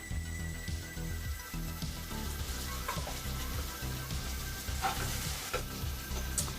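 Peeled garlic frying in oil with sautéed tomato and onion for vatha kuzhambu, a steady close sizzle and crackle throughout with occasional spoon stirring.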